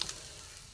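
Small mourola fish frying in oil give a steady, soft sizzle, close and even, with no voices over it.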